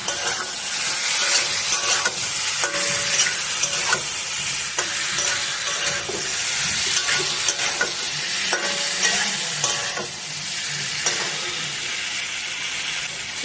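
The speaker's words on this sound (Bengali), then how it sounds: "জল দিয়ে দিচ্ছি।" Water hits spice paste frying in a pan for an egg and cauliflower curry, giving a loud, steady sizzle close by, with repeated stirring scrapes at regular intervals and no talking.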